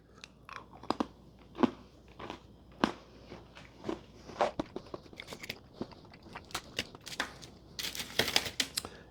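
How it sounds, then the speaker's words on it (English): A small piece of crunchy no-bake Easter dessert being eaten, close, repeated crisp bites and chewing crunches at an irregular rhythm, with no talking. "I'm gonna eat a really small piece."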